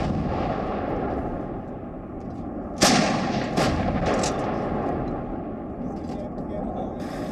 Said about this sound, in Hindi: बोफोर्स तोप के ये धमाके